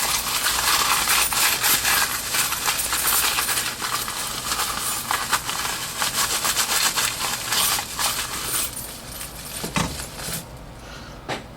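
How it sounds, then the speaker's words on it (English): An iPhone 5-series handset tumbles in a small bag stuffed with loose change and keys, shaken hard so coins and keys jangle and clatter in a dense, continuous metallic rattle that thins out near the end. "take a small bag just full of some change, throw some keys in there, and we're just going to toss the phone in, see how it holds up, shake it around"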